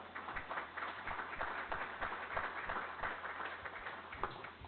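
Scattered applause from a small group at a school board meeting, faint and distant, irregular claps for a few seconds in a quiet room.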